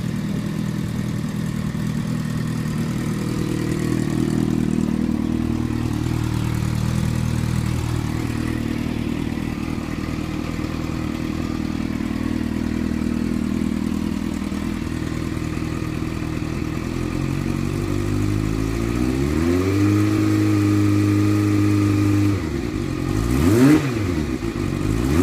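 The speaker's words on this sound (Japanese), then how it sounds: "エンジンは、ご覧の通り、セル一発にてエンジン始動、アイドリングも処理" A Yamaha XJR400R motorcycle engine idles with a steady, low, close-up rumble for most of the stretch, then revs up several times near the end in quick rising and falling bursts.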